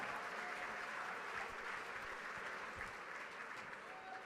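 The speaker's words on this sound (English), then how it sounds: "y'all give him a big round of applause" A gala auction crowd applauds a winning buyer with steady, dense clapping that fills the room at an even level throughout, with no pauses.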